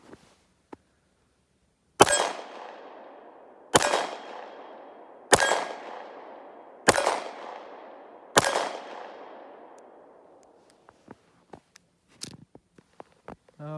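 A Nambu Type 14 pistol fires Buffalo Arms ammunition, five loud, sharp shots at even intervals, each ringing out with a long echoing decay, followed by faint clicks and metallic handling sounds.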